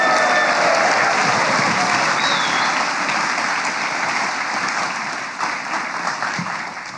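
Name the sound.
audience applause welcoming a guest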